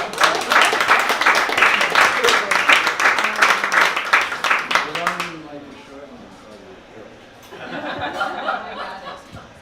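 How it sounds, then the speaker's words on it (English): A small audience at a poetry reading applauds vigorously for about five seconds, then it stops abruptly. Chuckles and murmured talk follow, with a voice speaking afterward. "let's have a big round of applause for both Doug and Harris"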